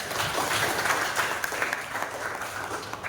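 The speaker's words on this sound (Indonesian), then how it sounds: "tepuk tangan untuk kalian." Steady applause from a classroom full of students, dense clapping that stays even and fairly loud for the whole few seconds.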